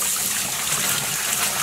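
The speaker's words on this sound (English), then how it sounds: "I'm going to keep rinsing until we can get the water to run clear" Water runs steadily while dyed yarn is rinsed after low-immersion dyeing, a continuous close hiss of flowing tap water with no pauses or talk.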